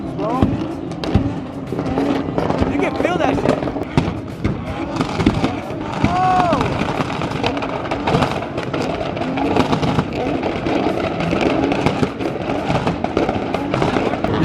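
Cars fire 2-step launch control backfires at a street meet, a dense barrage of sharp exhaust bangs and pops crackling repeatedly over revving engines, with people talking and shouting close by throughout.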